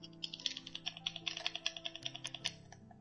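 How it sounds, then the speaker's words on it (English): Frantic clicking on a computer keyboard or mouse, a rapid run of sharp, close keystrokes at an uneven rhythm with a faint tonal hum underneath and no talk. "But I still hear that frantic clicking."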